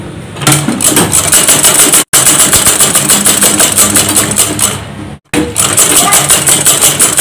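A sewing machine stitching interfacing onto a skirt waistband runs in loud, fast, rattling bursts, stopping briefly twice before starting up again.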